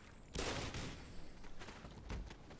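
Exploding pumpkins in the video game Black Mesa burst in a rapid crackling volley of sharp blasts, then a few more scattered pops, loud and close with no talk.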